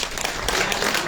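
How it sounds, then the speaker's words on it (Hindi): Brief burst of dense clapping from an audience at a village rally of the Janta Sarkar Morcha in Serdha, Kaithal, Haryana, a short rough wash of applause with faint voices mixed in. "उसके लिए जोरदार तालियां बनती है एक बार तो"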